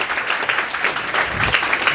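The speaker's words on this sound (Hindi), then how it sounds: "इनके लिए तालियां बजाइएगा।" Applause from a crowd at a competitive coaching institute gathering in Bachhwara, steady dense clapping filling the whole stretch at close range.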